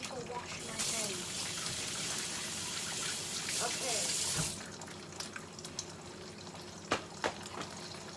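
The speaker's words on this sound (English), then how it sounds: "I need to wash my hands." Tap water runs steadily into a kitchen sink for hand washing during cooking, a continuous gush that cuts off midway, followed by a few sharp clatters and knocks.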